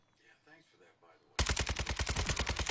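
Rapid automatic gunfire from a video game, a dense run of loud bursts that cuts in abruptly after faint talk and continues steadily to the end.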